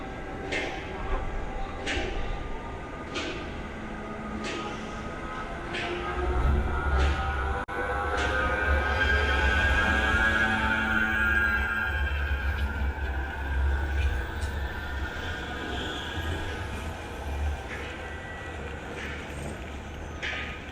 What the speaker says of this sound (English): I can hear this tram before I can see it.